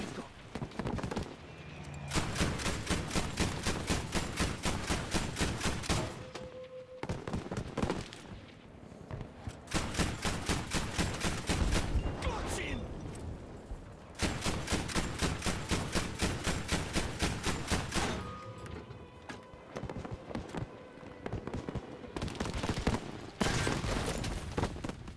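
A mounted gun fires in Battlefield V during the Under No Flag war story, in long, rapid, evenly spaced bursts with short pauses between strings, loud and close, with voices faintly underneath at times.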